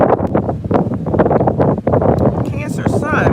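Wind buffets a microphone outdoors, a steady low rumble and gusting under continuous close talk from a man.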